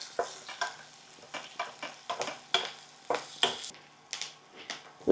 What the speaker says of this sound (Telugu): ఉల్లిపాయ కొంచెం వేగనివ్వండి